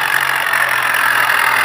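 A tractor engine idles steadily in a farming video game, a continuous close mechanical drone with no talk over it.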